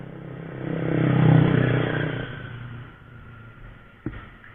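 A Honda Karisma motorcycle fitted with a Supra body revs up to a strong peak and then drops back to a low idle, ending with a single sharp click.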